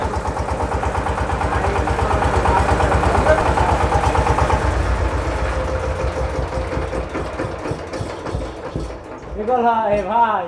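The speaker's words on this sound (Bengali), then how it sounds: "নতুন প্যাকেট ব্যাং স্টার্ট দিলে যেরকম সাউন্ড একই সাউন্ড আছে" A reconditioned diesel engine idles steadily with a rapid, even mechanical knock close by, loud throughout, while someone talks over it.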